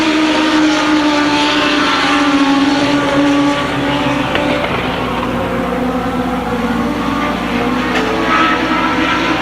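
Race cars lapping the Columbus Motor Speedway track during a main event, a loud continuous roar of several engines with steady droning pitch and overlapping revs throughout, no voices.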